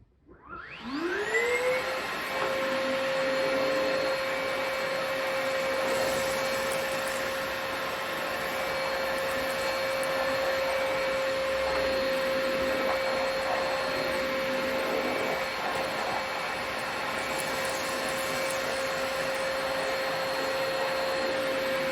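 A Perfect C105B commercial battery canister vacuum cleaner spins up and then runs steadily with a high, constant whine over a dense motor rush, close and continuous.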